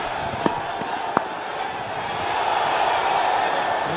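Cricket crowd at a one-day international between Ireland and Bangladesh cheering, a broad roar that rises steadily over a few seconds with a couple of sharp claps or bangs early on, moderately distant and continuous.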